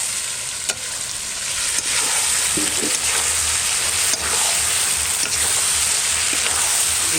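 Mutton curry being sautéed in a pan for a festive Bengali meal gives a loud, continuous sizzle with scraping stir strokes throughout, close and uninterrupted by speech.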